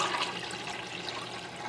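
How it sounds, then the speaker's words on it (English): Dirty, salty, sandy soaking water from a bowl of Irish moss seaweed is poured out in a steady, close splashing rush with no pauses. "Now I'm going to pour the water out from here."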